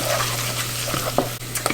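Garlic and Calabrian chilies fry in olive oil, a close steady sizzle under light stirring with a few soft utensil knocks, brief and without voices.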